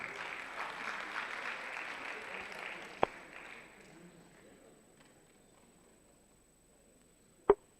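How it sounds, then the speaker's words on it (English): Audience applause at a university debate championship hall, a steady wash of clapping for the first few seconds that fades toward quiet, broken by two sharp isolated knocks. "Please clap."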